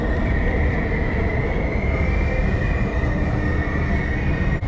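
A metro train in Iran rolls along from the inside with a loud, steady rumble and a faint high whine that stays level throughout.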